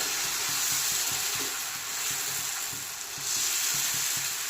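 Bhanoli batter cooking in a hot pan, a loud, even sizzle carrying soft rhythmic scraping strokes, briefly dipping near the end before resuming, with no one talking.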